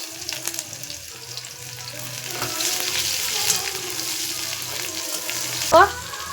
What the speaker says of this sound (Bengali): জিরেগুলো কালো হয়ে গেছে, দিয়ে দিলাম পেঁয়াজ